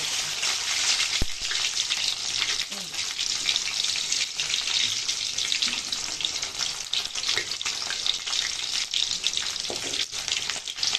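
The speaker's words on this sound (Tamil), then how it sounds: "இப்போ வெங்காயம் நல்லா வதங்கட்டும்" Onions and garlic frying in a pan make a steady, dense sizzle throughout, with a few faint clinks of stirring and no voices.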